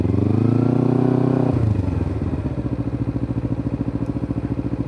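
A motorcycle engine idles with a steady low drone, then its pitch drops and settles into a pulsing, rhythmic chug as the rider releases the clutch and pulls away during a beginner gear-shifting lesson.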